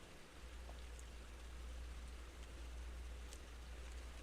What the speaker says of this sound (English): If you can hear the rain, free ambiance.